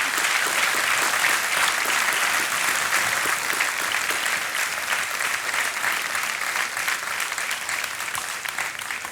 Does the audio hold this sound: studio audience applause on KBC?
yes